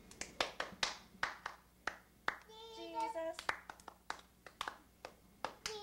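Hands clap in a brisk, irregular series of sharp, close slaps while a voice sings a drawn-out word in the middle, with quieter taps continuing after.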